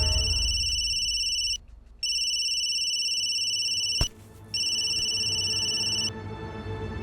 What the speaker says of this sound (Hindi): अरे फोन उठा।